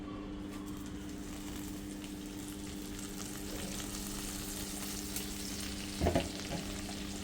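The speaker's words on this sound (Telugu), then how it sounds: "ఈ పుదీనాని ఇప్పుడు దాంట్లోకి వేసి బాగా వేపుకున్నాం, అంటే పచ్చి వాసన పోయేంత వరకు వేపుకున్నాం అనమాట." Fresh mint leaves fry in a pan, making a soft, steady sizzle over a constant low hum, with a brief scrape of stirring near the end.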